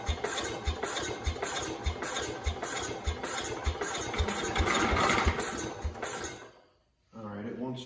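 Small engine being started and settling into an idle after sitting a few minutes, with choke in play; steady pulsing running sound near the mic, then it cuts out briefly before restarting, with people talking over it.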